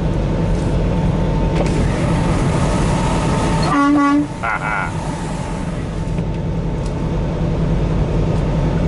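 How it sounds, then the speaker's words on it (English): A vehicle horn on a road trip crossing into Illinois sounds a short, loud burst of toots with a clear pitched tone, rising above steady road and engine rumble, with faint chatter. "Honk honk."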